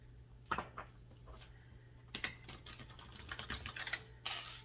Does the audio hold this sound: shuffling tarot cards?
yes